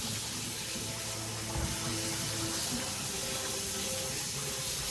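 Tap water runs steadily into a sink as salted bitter melon is rinsed, a close, continuous splashing hiss with occasional shifts as the pieces are moved under the stream, and no voices are heard.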